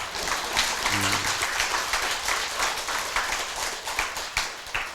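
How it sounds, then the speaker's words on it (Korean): Applause from a temple congregation at a Buddhist dharma talk, a steady wash of many hands clapping with scattered sharper claps and a brief voice underneath, moderately loud and sustained throughout. "이건 박수 칠만해."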